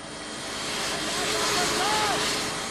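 A helicopter flies over a flood-struck area with cut-off roads, its steady engine and rotor roar swelling gradually louder as it approaches, continuous throughout.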